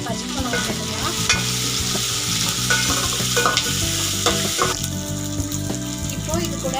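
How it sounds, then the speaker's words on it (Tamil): Two large onions and green chillies sauté in a pan for a pirandai chutney, giving a loud, continuous close sizzle broken by repeated scraping stirs of a spatula against the pan. "அந்த 2 பெரிய வெங்காயம் நல்லா வதங்கட்டும்"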